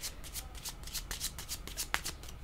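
Tarot cards are shuffled by hand in quick riffling bursts, a rapid series of soft papery flicks and slaps, close and quiet, with no talking.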